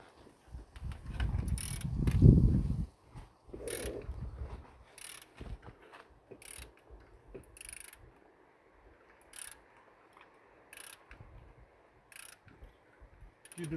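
A ratchet wrench turns the crankshaft of a BMW N13 engine in a 2011-2015 BMW 116i F20, giving a loud grinding burst followed by sparse, sharp clicks at intervals across a quiet workshop.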